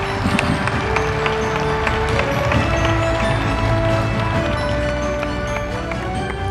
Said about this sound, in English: allow us to give you a word of applause